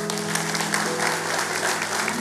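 Congregation clapping for God during a church sermon, a dense, steady wash of applause from a full room with faint voices mixed in.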